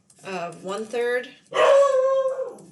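A dog barks and whines indoors during a math lesson on exponential and logarithmic equations, a few short yelps followed by a longer drawn-out cry, mixed with a person talking.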